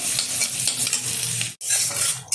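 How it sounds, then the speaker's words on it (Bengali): Loud sizzling of crushed garlic frying in hot oil while a utensil stirs and scrapes the pan, briefly cutting out then resuming. "তেলটা গরম হয়ে গেছে, তেলের মধ্যে দিয়ে দিচ্ছি থেতো করে রাখা রসুন।"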